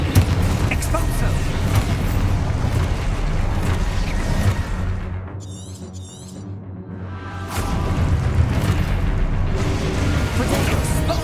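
Hogwarts Legacy combat spell blasts from Confringo and Expulso, loud rumbling booms and bursts that roll continuously, drop away briefly into quieter ambience, then surge back strongly.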